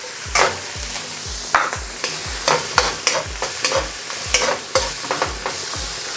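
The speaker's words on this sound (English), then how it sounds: "putting my aromatics, the chili and the garlic, followed swiftly by our onion" Chili, garlic and onion frying in hot oil in a wok for Chinese-style salt and pepper pork chops: a steady sizzle broken by about a dozen rhythmic tossing and scraping strokes, close and clear, with no talking.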